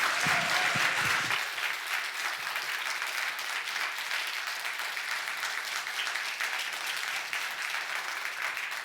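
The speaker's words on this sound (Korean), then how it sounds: "다시 한번 우리가 환영하며 박수하겠습니다" A church congregation claps in welcome for a newcomer, a dense, steady wash of applause from many hands filling the room, slightly louder at the start and then holding evenly to the end without talk.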